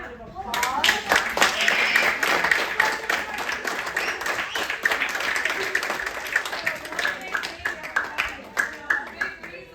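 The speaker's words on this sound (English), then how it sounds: "I'm gonna have everyone give you a round of applause." Audience round of applause at an education event, a crowd clapping fairly loud and dense for several seconds, then thinning into scattered claps with faint voices underneath.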